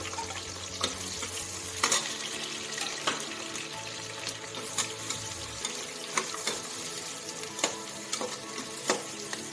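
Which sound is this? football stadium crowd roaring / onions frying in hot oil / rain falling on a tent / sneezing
onions frying in hot oil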